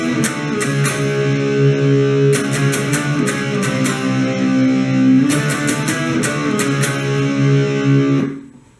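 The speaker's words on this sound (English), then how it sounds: "the main riff of the first verse should sound like this" An electric guitar plays a repeating riff alone, with ringing low notes and sharp picked chord stabs in a steady rhythm before fading out.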